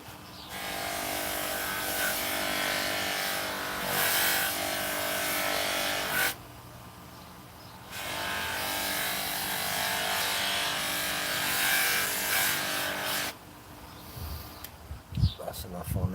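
Bicycle frame being polished by hand with fine abrasive, a continuous close rubbing swish that runs in long stretches with brief pauses, a voice talking over it in places.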